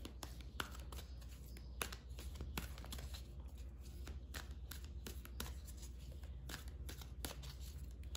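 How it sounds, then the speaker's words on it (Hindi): Energy oracle deck cards being shuffled by hand, a steady run of quick riffling flicks and soft card slaps close up, with no voices. "सबसे पहले हम कार्ड्स निकालेंगे एनर्जी ऑरेकल डेक से"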